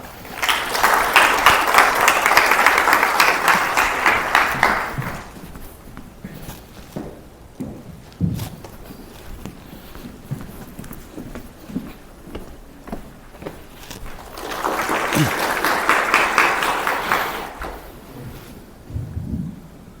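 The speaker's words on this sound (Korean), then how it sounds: "박수로 맞아주시기 바랍니다." Applause from a seminar audience greets the head of a road and traffic research institute, a five-second burst of clapping, then quiet footsteps and shuffling, then a second round of clapping near the end.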